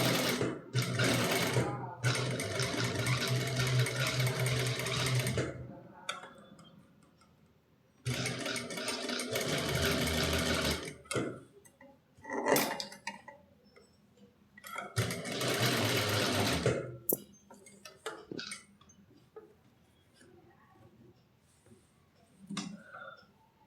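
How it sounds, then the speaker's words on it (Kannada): A sewing machine stitches along a neckline edge in several loud, close, whirring runs of a few seconds each, separated by pauses in which a person speaks. "ಬೇಕಾದರೆ ಒಂದು ಫುಟ್ ಲೆವೆಲ್ಗೆ ಸ್ಟಿಚ್ ಹಾಕ್ಕೊಳ್ಳಿ."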